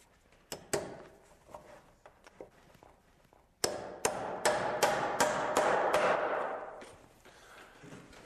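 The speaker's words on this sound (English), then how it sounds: "I'm going to nail my carriage to that 2x4." A hammer drives nails through a wooden stair carriage into a 2x4 spacer, heard as a few light taps followed by a steady run of about eight sharp, close blows.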